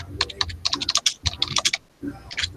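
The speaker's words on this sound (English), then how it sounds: "please let me know if this typing is too loud" Fast typing on a computer keyboard, close and loud, as bursts of dense key clacks with a short pause near the end, and a faint voice underneath.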